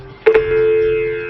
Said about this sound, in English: My other line's ringing.